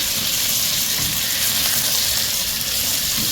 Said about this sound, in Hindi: ग्रीन चिली, चिकन क्यूब, करी पत्ता, और इसे थोड़ा सा चलाते हैं।